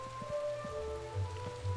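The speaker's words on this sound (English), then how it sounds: "It's always so rainy over here at the Triton Avenue." Steady rain patters on surfaces at Triton Avenue in the game Wizard101, a constant close wash of drops with a faint tonal hum and soft thuds beneath.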